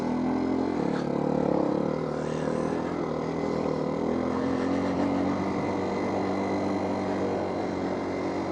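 A motorbike engine drones steadily as the rider heads up a hillside track, with a low humming tone that shifts gear-like partway through, close and continuous with no talk.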